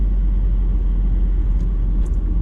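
Engine of a 2019 Mazda Miata during a shift into third gear, a steady loud low rumble from inside the car with little change in pitch and no talk over it.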